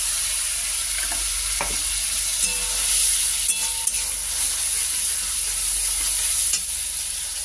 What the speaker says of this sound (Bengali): এবার এই ক্যাপসিকাম, কাঁচা লঙ্কা, আদা বেটে রেখেছিলাম, ওটা দিয়ে দিলাম।